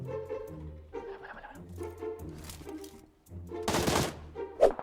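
Gunfire in the battle-royale game PUBG Lite, a loud burst of rapid shots near the end amid scattered game sounds, with a faint excited voice nearby.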